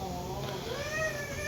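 A house cat meows in a few drawn-out, wavering cries at moderate loudness, with a person talking over the same stretch.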